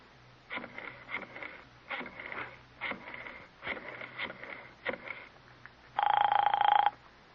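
A telephone rings as a radio drama sound effect: one long, loud, steady ring burst near the end, after a run of shorter rhythmic clicks like a number being dialed.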